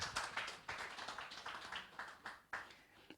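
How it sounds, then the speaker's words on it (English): Audience members at a health insurance consultative meeting clap in a loose, uneven run of claps, fairly faint and slightly irregular, with no talking over it. "Should we clap for him again?"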